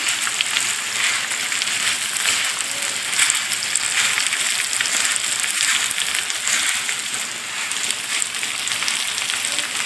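Sliced nopales browning in a hot frying pan give off a steady, dense sizzle and crackle that runs continuously and fairly loud, with no talking over it.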